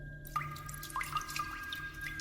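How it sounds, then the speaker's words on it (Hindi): Faint, close water drips and trickles from a bathroom tap, a few soft irregular plinks over a quiet background hum. "फिर से पानी बहने की आवाज सुनाई दी"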